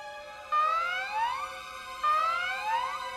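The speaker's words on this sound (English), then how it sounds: "That's the alarm." Alarm siren in the video game Valkyria Chronicles 4, two rising, wailing siren sweeps in a row, loud and close, with overlapping swooping tones.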